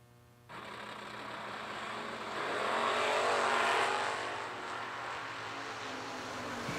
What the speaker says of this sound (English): we got us a drag race